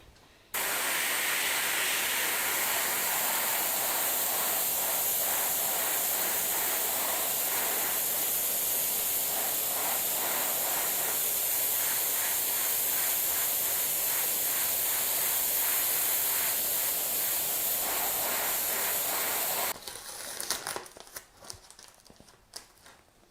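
A long, steady, close spray-can hiss runs for about twenty seconds as paint goes through cut masking-foil letters onto a bike frame, with faint pulsing in the spray before it cuts off into quieter handling noise.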